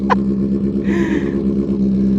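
A motorcycle exhaust revving nearby during a group ride in Naic, Cavite, a steady loud engine drone with a brief rise in pitch.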